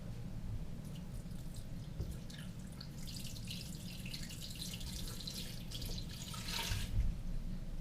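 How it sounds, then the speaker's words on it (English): Water pours steadily into a Blendtec blender jar holding raw kale and carrots, a continuous close splashing stream that swells briefly near the end, with no voices. "2 cups of water."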